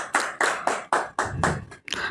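Hands clap in a slow, even rhythm, about eight distinct claps close by with brief gaps, welcoming Prakash Lakhani at the release of his ghazal collection.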